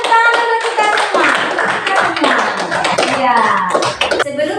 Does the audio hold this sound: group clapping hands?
yes